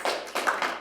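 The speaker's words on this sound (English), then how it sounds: "Give yourselves a round of applause." A short burst of applause from a corporate workshop audience: a few quick, fairly close claps in an uneven rhythm, lasting under a second.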